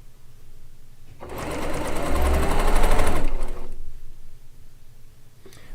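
A Baby Lock sewing machine stitching in a long, fast, even mechanical whir that swells in loudness and then stops abruptly, heard close up alone in a quiet room.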